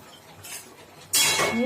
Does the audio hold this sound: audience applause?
no